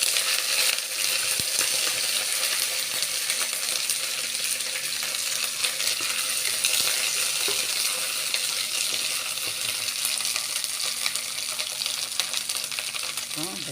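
Dried chillies and curry leaves fry in hot oil in a pan, giving a steady, dense crackling sizzle that holds at an even level throughout.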